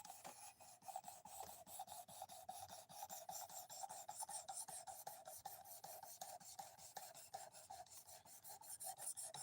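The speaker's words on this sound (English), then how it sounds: "at least the sharpening got quieter finally" A knife is drawn repeatedly across a whetstone, giving faint, rhythmic rasping strokes in quick succession that continue evenly throughout, close and alone with no voices.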